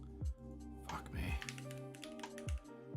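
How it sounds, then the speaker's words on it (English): Quick taps typing on a phone, heard as a few soft clicks mixed with a voice talking over them. "I'm just typing into my tweet status instead of the search bar."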